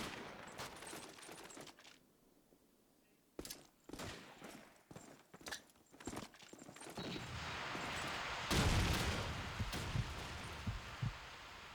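Gunfire from Call of Duty 2 in a competitive tournament match: a few sharp, loud rifle shots spaced apart over a quiet background, then a denser burst of firing and noisy battle sound toward the end.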